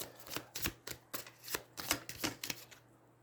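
A deck of cards is riffled and shuffled at a tabletop deck-building board game session, a quick run of about a dozen crisp, rhythmic flutters, close and fairly quiet, with no talking.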